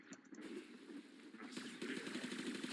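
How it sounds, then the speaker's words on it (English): The Supra Vandal, a rapid-fire minigun-like weapon in the video game Warframe, fires in a continuous buzzing stream of shots that grows denser toward the end, fairly quiet overall. "Yeah, it's like a minigun, but it's accurate."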